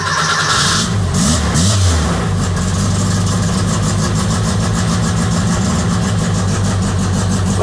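A VW Beetle engine with a Weber carburetor runs close and loud, surging briefly at first and then settling into an uneven, loping idle as it struggles and begins to die.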